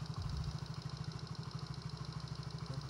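A 2012 Yamaha Mio J scooter idles steadily nearby, its small engine giving a low, even, slightly rattly putter throughout with no voices.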